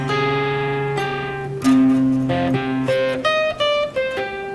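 Electric guitar playing the opening section of a song, a run of clear sustained notes and shifting chords, played alone and close at a steady level.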